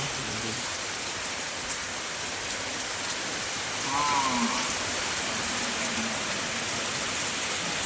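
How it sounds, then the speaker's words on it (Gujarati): Steady, dense rain hiss fills the scene evenly throughout, with a faint low voice briefly surfacing partway through. "વરસાદ તો જબરજસ્ત ચાલુ થઈ ગયો"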